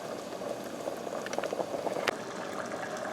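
Hot dog chili simmers in a pot, giving a soft, continuous bubbling with small pops and gurgles close by and no talking.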